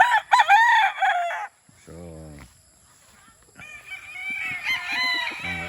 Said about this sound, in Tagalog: ito yung mga manok ko na ito 21 heads